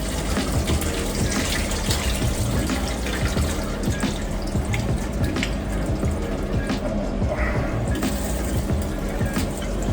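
Water pours and splashes steadily while starchy rinse water drains from a pot and it refills for cooking beef caldereta outdoors, a continuous close rushing with small sloshes and drips, no voices.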